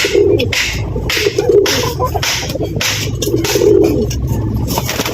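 Domestic pigeons, brown-feathered birds kept for racing, cooing in soft low repeated phrases close by, with rustling and faint background noise around them.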